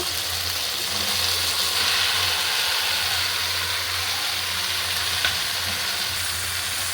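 Mushrooms fry in a cooked-down spice masala with a steady, close, hissing sizzle that holds evenly throughout. There is no talking, just a faint low hum beneath the frying.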